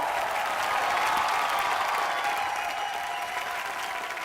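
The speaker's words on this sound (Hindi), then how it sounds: "जोरदार तालियां सर" Studio audience applause on a television entertainment show, a broad, even roar of many hands clapping together, sustained and fairly distant, fading slightly toward the end with no speech over it.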